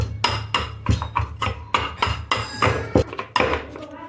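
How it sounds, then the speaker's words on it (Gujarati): Red chili powder and turmeric pounded in a mortar: repeated hard thuds and clinks in an uneven rhythm, close and fairly loud, about a dozen strikes with no talking. "હવે આ બધી વસ્તુ છે એને આપણે સરસથી ખાંડી"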